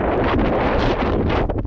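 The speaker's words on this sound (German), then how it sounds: "Jetzt kommt der Wind, scheiße." Strong gusts of wind buffet a microphone outdoors on a wooded hilltop, producing loud, continuous rumbling roar with fluctuating bursts and no talking.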